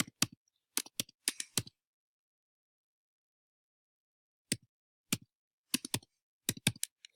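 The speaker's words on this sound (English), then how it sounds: "Oh, let me type it in again." Quiet, close keystrokes on a computer keyboard come in short clusters of taps, with a pause of several seconds between the first flurry and the later bursts.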